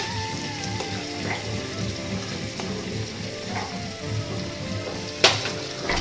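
Ridge gourd with poppy seed paste sizzles and fries steadily in a pan in a home kitchen, with a crackling hiss throughout and a sharp clink near the end.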